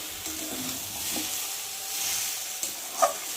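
Vegetables are sautéed in a pan, a steady close sizzle and hiss with a few soft stirring clinks and one sharper tap near the end.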